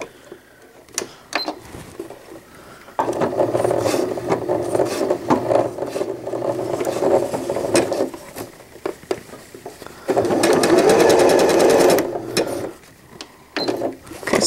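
A home sewing machine stitches a fitted crib sheet in bursts of rapid mechanical patter, starting and stopping with a long steady run near the end, close and clear with no talking.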